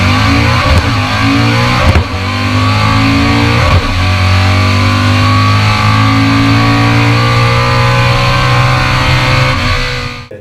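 Modified manual Honda Accord with a loud aftermarket exhaust, engine revving close by through repeated gear-like climbs and drops, a deep throaty roar that stays loud throughout and cuts off at the end.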